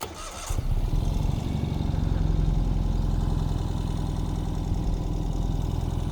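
The engine of a 2021 Ural Gear Up Heritage Hunter motorcycle cranks briefly, then catches and settles into a steady, close, throbbing idle that runs on alone.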